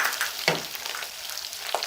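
Meat sizzling in a hot pan as whole spices such as cloves, cumin and mace go in for chicken pulao, a steady close frying hiss with a few louder stirring scrapes.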